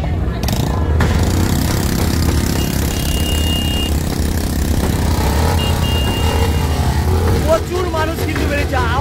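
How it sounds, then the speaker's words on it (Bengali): Motorbikes revving during a Ram Navami street procession in Kashipore, Kolkata, loud continuous engine roar and throttle bursts close by, with a crowd and voices underneath. "আওয়াজগুলি দেখছে তো, বাইকের আওয়াজগুলি দারুণ লাগছে কিন্তু"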